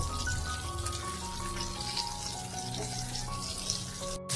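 Ribbon fish pieces fry in a pan for a few more minutes until crisp, a steady close sizzle and crackle running without a break, with no voices.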